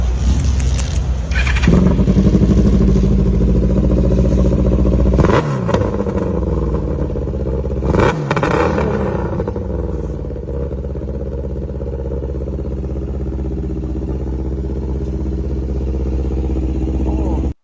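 A modified motorcycle in Malaysia runs loudly up close, revving sharply at the start and again in brief blips, then settling into a steady, throbbing idle.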